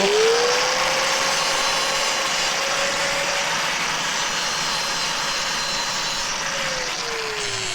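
An angle grinder spins up to a steady, loud high whine while stripping paint off metal, holding its pitch for several seconds before winding down, close and with no voices.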